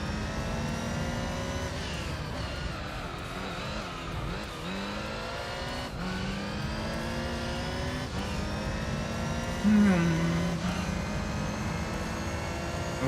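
A race car in Gran Turismo 3's JGTC series revs high and shifts repeatedly, its engine whine climbing in pitch, dropping at each gear change and climbing again under a continuous drone.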